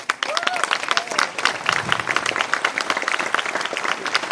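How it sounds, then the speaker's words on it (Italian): Steady, fairly loud audience applause at a live event, a continuous crackle of many hands clapping with a few faint voices mixed in. "fatele un bellissimo applauso"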